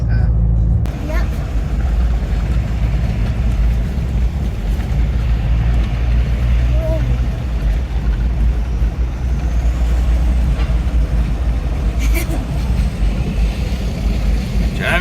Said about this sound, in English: Driving through Antigua streets, literally to go 1 mile, it's taking 15 minutes.